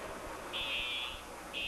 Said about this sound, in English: You think some of these drivers are keying that alarm there?